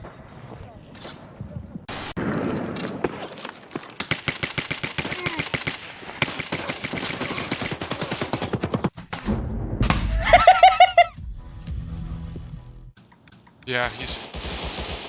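An AK rifle fires in a Battlefield video game, a long run of rapid, closely spaced shots followed by impacts and thuds. Excited voices talk over and around the gunfire.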